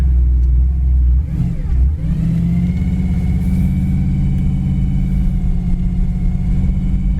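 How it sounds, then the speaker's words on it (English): A 1958 Chevy Impala two-door hardtop with a gear-drive engine revs in neutral: a loud, deep rumble that swells near the start, then settles into a steady, throaty idle close by. "I just really like the way this thing sounds when you rev it up in neutral"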